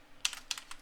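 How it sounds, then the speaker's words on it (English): Quick burst of computer keyboard typing, several crisp close key clicks in an uneven rhythm within under a second, moderately loud over a quiet room. "I'll just type in Unreal"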